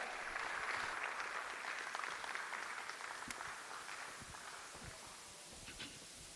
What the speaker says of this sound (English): A round of applause, please, as he comes on stage.